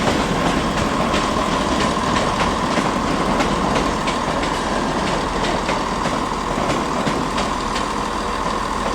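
A Class 385 passenger train idles at Edinburgh Waverley station with a steady, loud engine drone and a constant mechanical hum, unbroken for the whole stretch with no voices.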